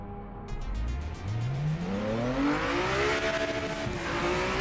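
Valkyrie race car in Project Motor Racing, its loud exhaust note rising steadily as the engine climbs through the revs under acceleration, close and continuous with no talking.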